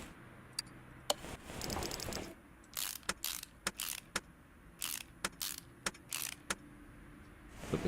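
Metal parts and tools clink and rattle in short sharp bursts, with a few ratchet-like clicks, during installation of an intake manifold on an ARCA Menards Series race car. The sounds come close and moderately loud, with no talking.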